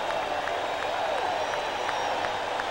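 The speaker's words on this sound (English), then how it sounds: "This crowd's not going to settle." A baseball crowd at a Giants at Phillies game roars and applauds after a big home run, a dense, steady wall of cheering and clapping that holds without easing.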